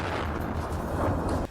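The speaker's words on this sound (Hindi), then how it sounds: "वहां पहले दिन की ही तरह जगह जगह धुआं और फायरिंग की आवाज होती सुनाई दी।" Gunfire and heavy weapons fire in Khartoum during the Sudan war, a dense, continuous rumble of distant shooting and blasts that cuts off abruptly near the end.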